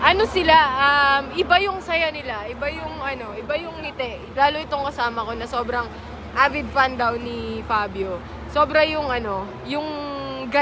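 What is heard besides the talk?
No everyday noise stands out behind the speech.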